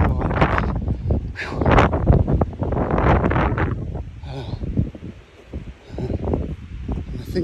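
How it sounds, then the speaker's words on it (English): Wind gusting across an exposed hillside path along Offa's Dyke, buffeting the microphone in loud rumbling surges that rise and fall, with a person talking through most of it. "Get a bit closer so you can tell the wind gets up here."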